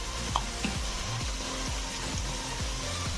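Spices for a Bengali bata fish curry sauté in hot oil in a pan, with a continuous sizzle and a rhythmic scraping as the mixture is stirred about every half second.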